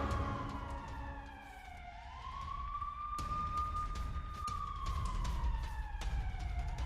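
Air raid sirens wail continuously across Tel Aviv during a Hamas rocket attack, a loud rising and falling tone that sweeps up and holds, with outdoor street noise and rumble underneath.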